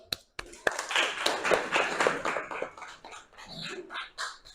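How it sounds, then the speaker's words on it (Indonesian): Classroom applause from students after a group presentation, with a burst of uneven hand claps at the start quickly blending into chatter and voices talking over the remaining scattered clapping. "Kasih aplaus."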